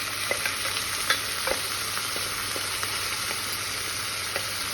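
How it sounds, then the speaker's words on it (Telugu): Broad beans stir-fry in a pan with a soft, steady sizzle, punctuated by several light scraping and clinking strokes of a spatula at irregular intervals, close and fairly quiet with no voices. "ఇప్పుడు ఈ చిక్కుడుకాయలు వేసేస్తాం"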